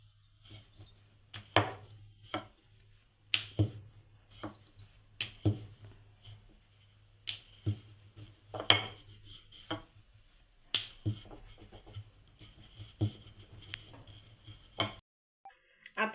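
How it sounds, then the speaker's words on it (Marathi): Rolling pin pressing and rolling small balls of wheat dough into thin puri-style rounds for a traditional crunchy chanakali Indian bread, heard as a series of soft knocks and taps with quiet scraping between, close up and without talk. "आता आपण याला पुरीसारखं लाटून घेऊयात"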